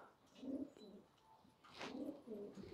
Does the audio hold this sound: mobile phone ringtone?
no